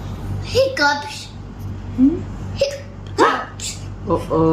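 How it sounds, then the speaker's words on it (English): A small baby hiccups several times in short, sharp bursts spread unevenly across the moment, close by, with soft vocal sounds and an adult's voice around them. "Hiccups. Uh-oh."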